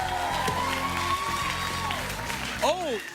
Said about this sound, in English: Applaud, studio audience, who nearly saw me die.